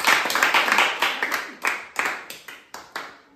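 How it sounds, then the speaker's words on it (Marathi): A short burst of clapping for a child who solved a puzzle, a few hands beating in quick, uneven rhythm that rises, then thins into separate claps as it dies away. "तर अक्षरासाठी एकदा जोरदार टाळ्या."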